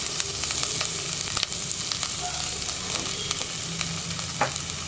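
Cardamom, cinnamon, cloves and crushed ginger-garlic fry in hot coconut oil inside a pressure cooker, a steady close crackling sizzle broken by occasional sharp pops and stirring scrapes.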